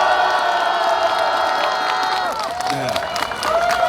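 A crowd cheers and applauds at a Gwanak district mayoral candidacy press conference held outdoors in cold weather, with steady clapping, whoops and shouts, while voices call out over it.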